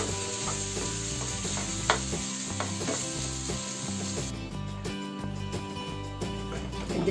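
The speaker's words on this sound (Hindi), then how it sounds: "इसको लेकर सारा मिक्स कर लें" Mashed potato bharta frying in a pan while being stirred, a steady soft sizzle broken by scattered spatula scrapes and taps, close and fairly quiet, with no talking.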